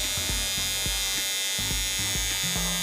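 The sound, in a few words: electric facial hair trimmer running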